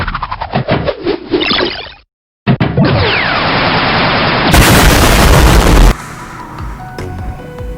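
Mobile Legends hero Bruno fires shots in the game amid bursts of impacts, crashes and booming effects, loud and dense, with a brief dropout partway through and a shift to quieter effects near the end.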